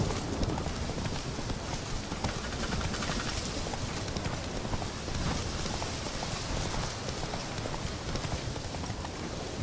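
Hooves of the horse Roach galloping in The Witcher video game, a dense steady drumming clatter of hoofbeats mixed with a rain-like hiss, continuous throughout.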